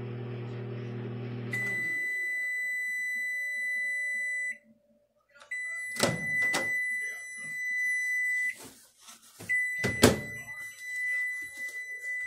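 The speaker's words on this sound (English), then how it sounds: "Sometimes the microwave glitches. It'll just stop." A microwave oven hums with a low drone, then sustained high electronic beeping tones sound in long stretches broken by gaps, mixed with a few clunks and thuds nearby.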